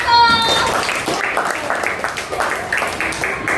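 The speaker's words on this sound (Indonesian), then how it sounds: "tepuk tangan untuk kelompok 1" Schoolchildren in a classroom clap together for a student group, a dense spatter of hand claps that starts right away with a voice and carries on steadily for several seconds.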